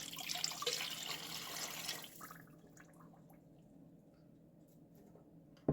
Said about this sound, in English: To the 4 cups of sugar, we're going to add 4 cups of water.